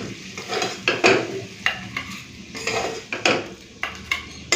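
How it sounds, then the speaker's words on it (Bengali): Cauliflower curry cooked in fish oil being served into a bowl, with repeated spoon and ladle scrapes and clinks against a metal pot, irregular knocks over a soft background hiss, close and fairly loud, no talking. "এখন আমি বাটিতে তুলে নেব"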